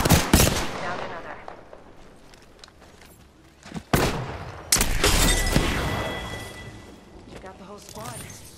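Automatic weapon fire in the video game Apex Legends, loud rapid bursts with sharp single shots between them, while a player talks over the action.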